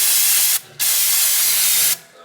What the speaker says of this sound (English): Just spray around all your places here.